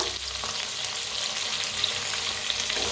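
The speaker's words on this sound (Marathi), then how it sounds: "भाजून घेऊया" Onion, green chillies and ginger-garlic paste frying in a pan for pasta, a steady close crackling sizzle with light stirring, no voices.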